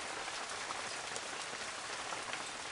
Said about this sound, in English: It's hailing, and the hailstones are the size of gravel, which is very unusual.